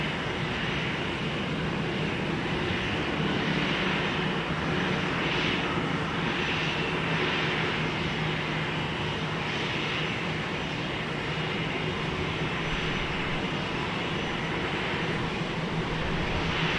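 A Sun Country jet arriving at Minneapolis–St. Paul Airport on a flight from Columbus, Ohio, gives a steady, sustained engine roar with a broad rushing wash that holds at an even, moderately loud level throughout.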